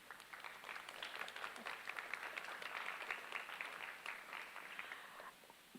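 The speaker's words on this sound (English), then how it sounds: "Round of applause, please." A city council meeting audience gives a round of applause, a steady, moderately quiet burst of many hands clapping that holds for several seconds before tapering off.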